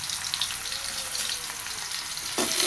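Potato and carrot pieces frying with salt and turmeric for a Bengali shukto, a continuous even sizzle, with a brief louder burst near the end, no voices.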